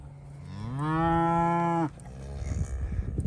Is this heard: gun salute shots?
no